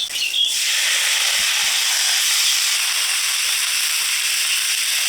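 Eggplant with chopped onion and green chillies fries in mustard oil in a kadai, a loud, close, steady hissing sizzle that flares sharply at the start and then holds evenly.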